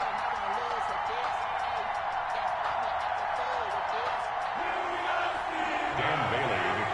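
A steady, dense stadium crowd roar in an EA Sports football game, Minnesota Vikings against Pittsburgh Steelers, loud and continuous throughout with no break.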